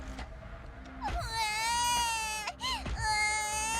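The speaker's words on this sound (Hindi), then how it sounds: "अचानक ऊपर से किसी बच्चे के रोने की आवाज आने लगी।" A child cries in drawn-out, wavering wails, loud and close, with a short catch between two long sobbing cries.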